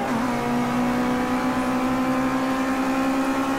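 A Ginetta G40 GT5 race car on its final lap at Indianapolis Motor Speedway gives off a steady, loud engine drone from inside the car. The tone holds a sustained pitch throughout with no talk over it.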